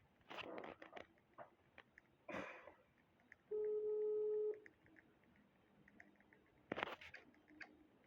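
A phone rings once inside a Roblox game: a steady electronic tone lasting about a second, set among soft clicks and a few sharp handling noises.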